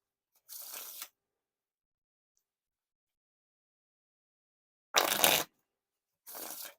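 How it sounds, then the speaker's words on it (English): Three separate riffle shuffles of a deck of playing cards, each a quick burst of fluttering, with long silent gaps between them. "So no issues with the riffle shuffles"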